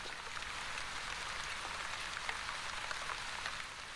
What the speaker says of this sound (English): Light rain. Rain falls upon Onbu and raises humidity.